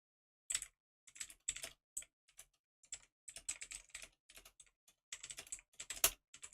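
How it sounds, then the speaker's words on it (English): Rapid typing on a computer keyboard, close and crisp, with bursts of keystrokes separated by short pauses and no talking. "Listen to that keyboard ASMR."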